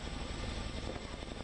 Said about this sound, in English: Shiv, we see that Chinook helicopter taking off with those workers